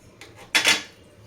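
Cardamom is stirred into coconut milk payasam in a pot, producing a few quick metallic scrapes and clinks of a spoon against the pot, close and brief, with no talking.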